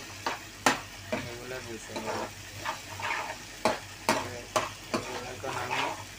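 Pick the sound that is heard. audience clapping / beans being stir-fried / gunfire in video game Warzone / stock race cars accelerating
beans being stir-fried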